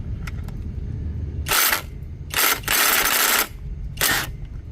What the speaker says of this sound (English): we're going to undo these two bolts that are in here with a 12mm